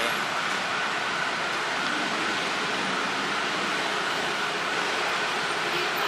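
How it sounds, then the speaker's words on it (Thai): A train rumbles past in a steady, dense wash of rolling noise, continuous and fairly close, with no voices. "นั่นรถไฟ"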